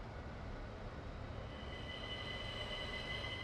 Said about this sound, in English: Wow, I really enjoy driving this train.